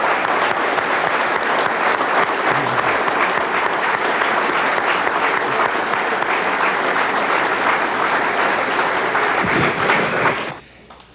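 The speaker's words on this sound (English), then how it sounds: "I clap." Sustained audience applause at a union meeting of building trades locals in New York, 1992, steady and dense clapping for about ten seconds before tapering off abruptly at the end.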